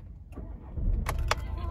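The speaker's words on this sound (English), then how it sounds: "I'll quickly turn the vehicle on so we can take a look." A Volkswagen Tiguan 2.0 TDI diesel SUV starting up: a short mechanical click, then the engine cranks and catches into a steady idle, close and moderately loud.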